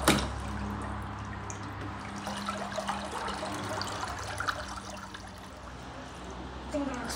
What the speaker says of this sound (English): It's always good to have the water pumping when you start the filter so that the fish have oxygen.